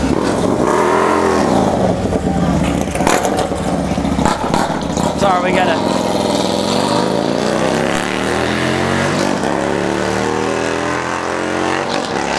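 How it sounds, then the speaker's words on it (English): A loud motorcycle passes close by outdoors, its engine roar rising and sweeping past with a revving, shifting drone that dominates the scene, while someone talks over it throughout. "we had a loud motorcycle go by"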